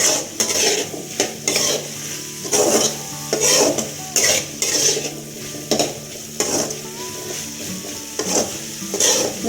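Chickpea sundal with garam masala being stirred in a pan, a spoon scraping and tossing in repeated bursts over a steady close sizzle, with no talking.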